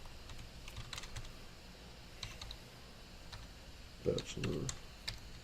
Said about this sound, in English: Not the fastest typer in the world.